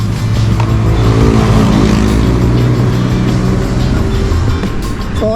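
A Yamaha Mio scooter fresh from an engine overhaul runs and revs steadily close by, a loud continuous buzzing drone with no rattle, holding nearly constant throughout.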